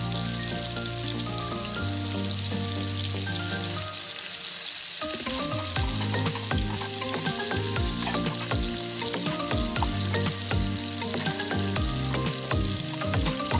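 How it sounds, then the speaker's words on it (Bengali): Onion paste fries in a pan for sour hilsa, a loud continuous sizzle broken by repeated scraping strokes of a spoon stirring it, with no talk. "পেঁয়াজ নাড়তে থাকুন এবং 10 মিনিট ভাজুন।"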